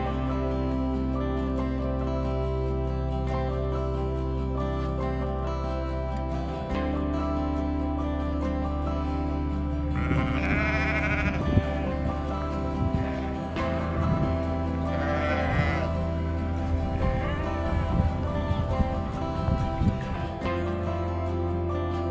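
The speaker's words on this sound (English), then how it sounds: "the best part for me is the sheep" Sheep on a 500-acre farm in upstate New York bleat several times, wavering calls that rise over a loud, steady droning background, with the calls coming in the second half.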